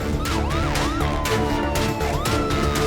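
A cartoon animal ambulance siren wails in repeated rising and falling sweeps, loud and close, with steady engine and music-like tones beneath it.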